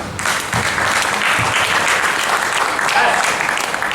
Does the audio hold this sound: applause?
yes